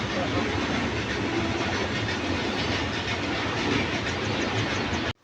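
A goods train rolls past nearby, a loud, continuous rumble with rhythmic clickety-clack of freight wagons on the rails, holding steady before cutting off abruptly at the end.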